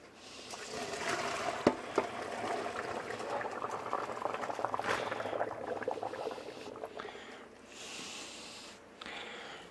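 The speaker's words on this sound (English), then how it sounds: "they've been boiling for 5 minutes" Potatoes cut for fries boil steadily in a pot of water, a continuous bubbling roil with small pops, loud and close, with no voices.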